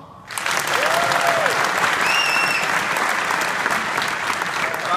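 Loud, sustained applause from a tech summit audience voting by clapping, bursting in abruptly and holding steady for several seconds as a dense, even wash of hands with a few faint voices and whoops.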